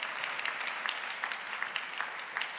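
A conference hall audience at a tech awards ceremony claps in a dense, even burst of applause, moderately distant and steady for the whole stretch.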